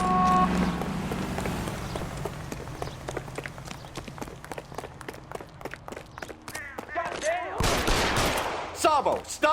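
Gunfire in LA Noire on PS3, a fast volley of sharp shots and rapid bursts with running footsteps, building to a loud cluster of blasts near the end, with voices talking over the scene.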